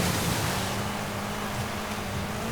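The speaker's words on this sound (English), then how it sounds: "this car's not meant for really going for deep wading in water, but plenty of speed will hopefully keep us going through it" A car in Forza Horizon 5, built with no thought for deep wading, pushes fast through deep water, giving a steady broadband wash of splashing and rushing water with a low engine drone beneath it, loud and constant throughout.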